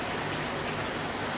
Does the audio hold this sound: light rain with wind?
yes